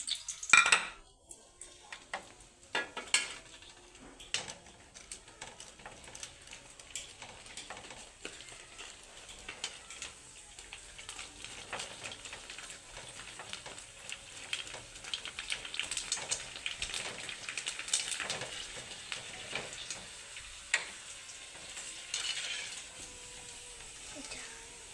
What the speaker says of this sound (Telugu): పానీపూరి వడియాలని ఫ్రై చేస్తున్నామండి.